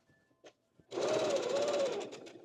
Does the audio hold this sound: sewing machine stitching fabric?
yes